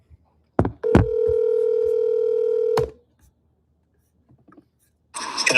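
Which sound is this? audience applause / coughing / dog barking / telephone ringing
telephone ringing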